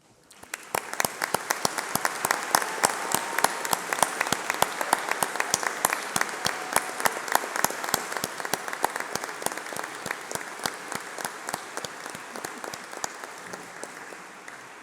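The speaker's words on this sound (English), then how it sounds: "please stand up while we give you a round of applause." An audience at a university graduation ceremony applauds steadily in a large hall, dense even clapping sustained throughout with a quick rise at the start and a slow fade at the end.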